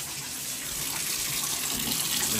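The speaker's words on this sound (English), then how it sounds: "I have to use the tub to wash my hands." Water pours steadily from a bathtub tap while hands are washed at the tub, a broad continuous rushing hiss that holds level and close throughout with no talk.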